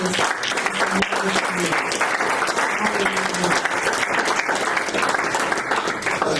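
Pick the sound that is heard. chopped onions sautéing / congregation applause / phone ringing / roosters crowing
congregation applause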